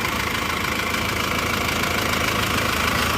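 A car engine idles steadily up close, a constant mechanical hum with faint rhythmic knocking and vibration, in a check of the cooling system for suspected overheating, with no speech.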